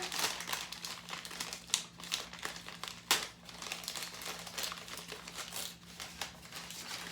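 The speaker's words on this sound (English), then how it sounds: "I thought I would open my yarn for September's Sock Yarn Club." A yarn skein package is opened by hand, its plastic wrapping crinkling steadily and close up for several seconds, with a couple of sharper crackles along the way.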